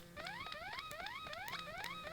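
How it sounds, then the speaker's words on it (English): An alarm in the video game Dragon Quest Monsters Joker 2 blares steadily, a fast repeating rising electronic whoop that cycles without pause, loud and alone. "And this alarm's still going off."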